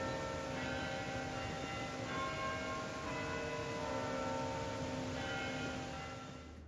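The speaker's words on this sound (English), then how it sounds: "Morning bells are telling us it's time to get going." Morning church bells ring continuously at a distance, layered tones sustained over steady outdoor background noise, with no voices.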